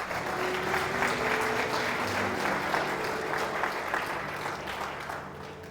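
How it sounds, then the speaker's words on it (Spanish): A church congregation clapping together in a steady, dense round of applause that fills the room, then slowly fades toward the end, with no speech over it. "Aplauda la palabra del Señor."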